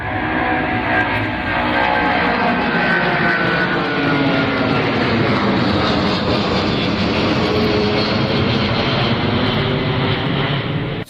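A large British Airways airliner at Heathrow Airport roars steadily and loudly with a broad engine rush throughout, close by and without any talk.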